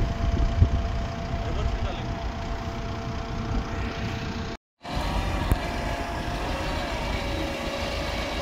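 Mahindra Thar engine droning steadily while the vehicle tries to self-recover from boggy desert sand, a constant low rumble with a short dropout partway through, under people talking.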